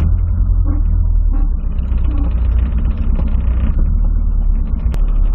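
A Volkswagen Voyage pulls away, its engine giving a loud, steady low rumble close by that holds throughout with slight rises as it accelerates, with no one talking.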